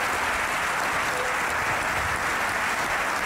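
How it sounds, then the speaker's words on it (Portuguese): An audience at a student talk event claps for Luís, a dense, continuous burst of applause that is loud and sustained throughout. "uma salva de palmas para o Luís"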